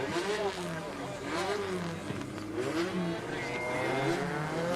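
Drift cars sliding on a wet track at a Drift Kings Asia Cup and National Drift Series round in Malaysia, engines revving and wailing up and down continuously, with a commentator talking over the noise.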